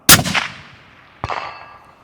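Two sharp reports from a 300 PRC rifle fitted with a Thunder Beast Magnus S suppressor, a loud crack followed by a fading tail, then a second distant metallic impact ringing out about a second later.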